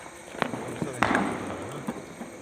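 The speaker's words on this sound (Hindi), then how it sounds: "फुलझड़ी।" A Diwali sparkler burns at a home celebration with faint, irregular crackling and a few small sharp pops, while a voice is heard nearby.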